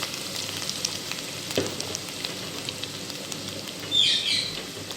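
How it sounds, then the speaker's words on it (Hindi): Onions dropped into hot oil sizzle for a light golden-brown fry, a steady close hiss with a few soft pops and stirring scrapes throughout. "अब हम इस ऑयल के अंदर जो है अपना प्याज शामिल कर देंगे।"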